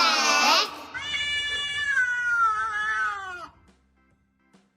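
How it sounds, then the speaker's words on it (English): A cat meows in one long drawn-out wail that starts with a sharp high cry and slides into a sustained tonal yowl, loud and close, then trails off into quiet. "C for cat."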